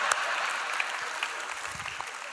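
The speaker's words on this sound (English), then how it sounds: "Can we have a round of applause for them?" Brief round of applause from a church audience during a sermon, an even wash of clapping with a few sharper claps standing out.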